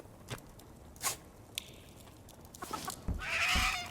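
Chickens in the video game Rising World give a few short, soft clucks scattered over a quiet background, with a slightly louder burst of fowl calls near the end.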